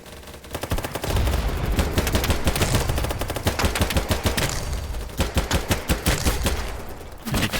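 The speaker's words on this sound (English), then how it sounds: "Because this is a fully automatic weapon, even though I'm shooting it semi-automatic, I can still shoot really fast." A fully automatic rifle fired in quick semi-automatic shots in the BattleBit Remastered video game: a loud, sustained string of rapid, sharp reports, nearly continuous for several seconds, then spaced single shots near the end.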